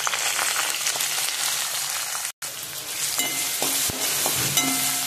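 Chopped onion fries in hot oil for poha, giving a continuous loud sizzle with a few stirring clinks and one brief break near the middle; no one speaks.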